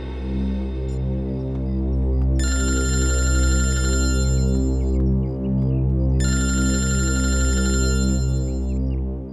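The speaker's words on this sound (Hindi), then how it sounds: "दया सर का फोन" Telephone ringing with two long electronic ring bursts over a steady loud droning background tone, continuous and prominent with no speech.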